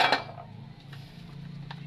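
Dishes and cutlery clink in a home kitchen sink as plates are washed, with a sharp clatter at the start and then softer scattered clinks over a steady low hum.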